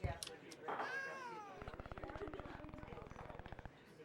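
A cat in the video game Traveller's Rest gives a meowing cry and then a low, rapid pulsing growl or purr lasting a couple of seconds, faint and close.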